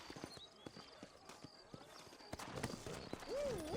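Horse hooves clip-clopping in Red Dead Redemption, a series of distinct hoofbeats at a walking pace with a brief whinny near the end, with someone talking over it.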